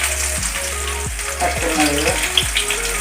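Ginger and garlic fry in hot oil for an egg curry with a constant close sizzle and crackle, and a low hum with repeated knocks runs underneath.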